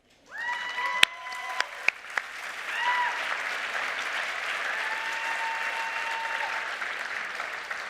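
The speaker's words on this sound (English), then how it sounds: "It is definitely worth applauding for." Applause swells from an audience at an IRS event, starting with a few sharp claps and building into steady, sustained clapping, with a few brief tonal sounds and whoops rising above it early on.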